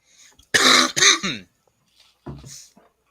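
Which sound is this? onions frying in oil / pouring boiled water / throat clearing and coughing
throat clearing and coughing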